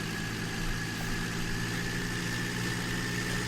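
A tractor engine in the game Farming Simulator 19 runs at a steady idle, a continuous low droning hum with a faint vibration, even in level throughout and with no voices.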